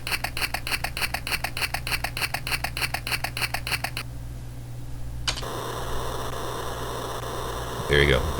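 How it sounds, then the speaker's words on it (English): An angry star generator counts down to self-destruct in the Space Quest 1 video game on the Apple IIgs: a steady buzzing pulse with a low hum, a brief drop to near silence, then a rising electronic drone. "That is the sound of an angry star generator."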